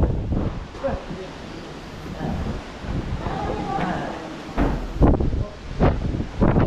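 Super typhoon wind at Burias, Masbate buffets the microphone in rough gusts, rising and falling with a few sharp bursts, while people talk in the background.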